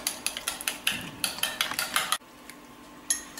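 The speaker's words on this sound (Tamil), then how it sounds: "இதை நல்லா வந்து முட்டையை அடித்து மிக்ஸ் பண்ணிக்கோங்க" Eggs seasoned with salt are beaten in a bowl, giving a quick, steady run of sharp clinks and taps of utensil against the bowl, then a brief pause before one more tap.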